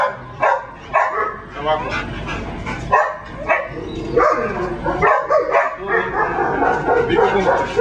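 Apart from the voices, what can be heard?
Belgian Malinois dog barking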